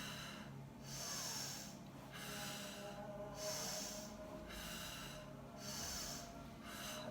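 Slow, deep breaths during a hip-replacement gluteus medius exercise, long airy exhales and inhales in a regular rhythm about every two seconds, close and without talk.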